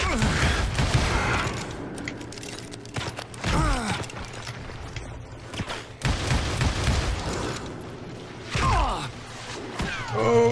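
Gunfire in the Western shooter Call of Juarez: Gunslinger, several loud close gunshots spread irregularly through a chaotic firefight, mixed with mechanical clatter and impact noises.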